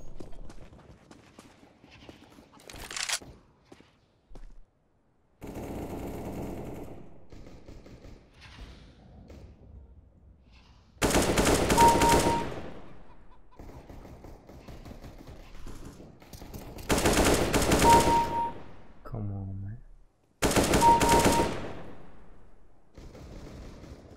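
AK rifle fire in the video game CS:GO, heard as three loud, dense bursts of automatic fire a few seconds apart, with quieter game sounds before them.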